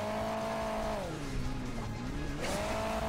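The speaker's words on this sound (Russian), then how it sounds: "Это вот когда на 2 колесика приземляешься, такой... это вот дает тебе ускорение." In the Hill Climb Racing 2 video game, a car's engine hums steadily, dips in pitch as it lands on two wheels, then climbs back up for a boost. The sound is moderately quiet, with no talking.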